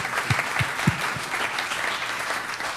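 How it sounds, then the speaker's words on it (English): An audience at a social media conference gives a steady round of applause, a dense wash of clapping with a few louder individual claps standing out near the start. "Can we just do one final encouraging round of applause?"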